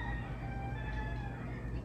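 Chickens and roosters roaming outdoors in the Cayman Islands, with soft fowl clucks over a low rumbling background that stays steady for the couple of seconds.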